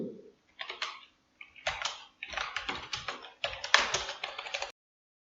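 Fingers type a file name on a computer keyboard in a Save As box: quick bursts of close, crisp key clicks in four short runs, separated by brief pauses, alone in a quiet room.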